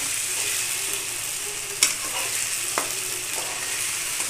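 Food fries in a pan with a steady, even sizzle throughout, broken by a few clicks and knocks of a utensil.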